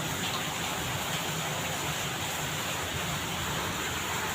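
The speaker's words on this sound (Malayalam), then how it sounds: "നാട്ടിലെ പോലത്തെ മഴയെന്ന് പറയാം." Heavy monsoon downpour in Delhi, rainwater spilling down the side of outdoor steps, makes a dense, steady hiss that holds evenly throughout with no pauses and no voices.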